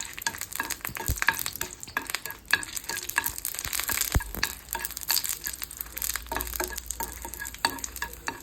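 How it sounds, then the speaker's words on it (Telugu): Red chillies fry in two tablespoons of oil in a pan over a gas flame, a close crackling sizzle broken by frequent sharp stirring scrapes and taps, with no voices. "ముందుగా రెడ్ చిల్లీస్ని ఫ్రై చేసుకొని"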